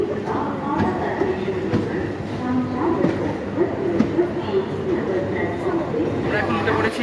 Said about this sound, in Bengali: এদিকে আমাদের লোকাল ট্রেন প্ল্যাটফর্মে ঢুকছে 4 নম্বরে।